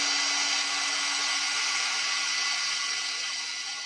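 A craft heat tool blows hot air in a steady, loud, close whir with no break for about four seconds while it warms up, and nobody speaks over it.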